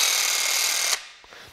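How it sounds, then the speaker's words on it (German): A Fein F-IRON Jig 26 AS jigsaw with soft start runs with a steady high whine for about a second, then cuts off and winds down quietly, with no one talking. "die Säge knallt nicht gleich mit der vollen Geschwindigkeit los"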